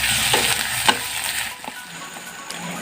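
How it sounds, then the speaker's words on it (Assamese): Ginger garlic paste with cardamom and cinnamon fries in a pan as a steady, close sizzle, with a few sharp spatters and the scrape of stirring, and no voices. "এইখিনি এতিয়া লৰাই একেবাৰে কেঁচা গোন্ধ যোৱালৈকে মই অলপ দেৰি ভাজি ল'লোঁ"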